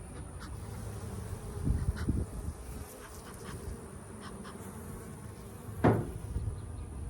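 Honeybees buzz around wooden hive frames with a soft, continuous drone, punctuated by a few nearby knocks and scrapes as the frames are shifted.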